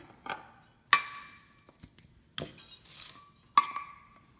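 A jar holding ragi flour mix for instant dosa is shaken hard, giving several bright glassy clinks and rattles in separate bursts spread across a few seconds, with no voices.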